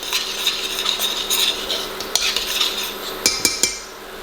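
Utensil stirring honey garlic sauce in a pan over lowered heat, with steady scraping and clinking against the metal and a few sharper knocks near the end.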